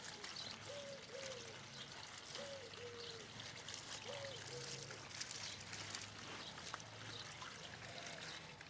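Water trickles and pours steadily into a potted pothos to soak it, a faint, continuous wash that runs throughout at low level.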